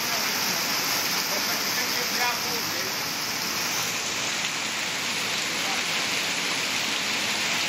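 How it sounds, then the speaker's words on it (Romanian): Heavy rain with hail in a storm in Gorj county, Romania, a loud dense continuous hiss and patter of falling water and ice on surfaces, with a voice talking faintly beneath it. "A plouat cu grindină și în mai multe localități din județul Gorj."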